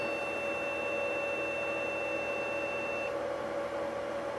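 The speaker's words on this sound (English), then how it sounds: "One long beep, huh?" An eMachine desktop computer gives one long, steady electronic error beep as it powers up after a processor and video card upgrade. The tone holds for about three seconds and then stops, over a constant hum of a running fan.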